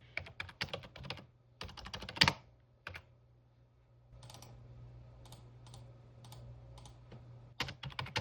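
An essay is typed on a computer keyboard: close, crisp key clatter in quick bursts separated by short pauses, then lighter, sparser taps over a faint background hum, with no voices.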